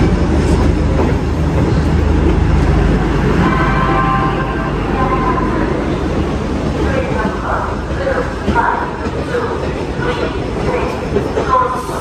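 A busy Indian railway station hums with train noise and a low mechanical rumble, with people talking and crowd chatter throughout while waiting for a local train.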